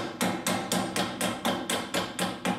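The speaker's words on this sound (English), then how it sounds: "So loosen the bolts off, give them a tap with a hammer," A hammer taps Land Rover steering pinch bolts, 11mm, with about ten evenly spaced, loud, ringing metallic strikes up close and no talk.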